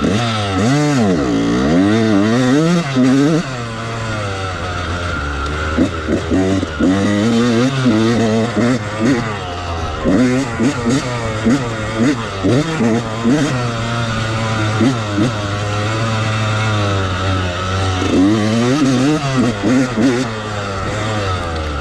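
A 1997 Yamaha YZ 125 two-stroke dirt bike with a steel frame is revved hard and repeatedly at close range, its loud buzzing note rising and falling throughout.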